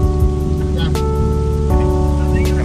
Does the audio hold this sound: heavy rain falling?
yes